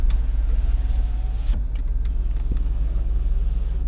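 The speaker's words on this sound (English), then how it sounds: "Power windows all work." Power windows on a 2002 Cadillac Escalade GMT800 with a 6.0L LQ9 engine in a wrecking yard, a faint motor whir under a steady low rumble, with a few short clicks and knocks near the middle.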